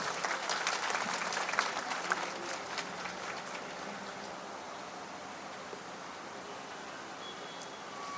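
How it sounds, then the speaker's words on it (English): Large audience applauding steadily at a jubilee celebration of a tribal union in Dimapur, a dense even clatter of clapping that slowly thins out over several seconds. "Can we have a big round of applause?"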